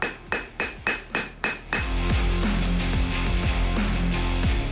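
Hammer blows ring out in a traditional Ossetian knife-making workshop: six sharp, evenly spaced metallic strikes, then a dense run of quicker, overlapping clanks with bright ringing overtones, loud and close.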